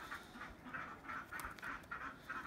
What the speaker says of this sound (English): And Mr. Duck, you can go off and have some fun.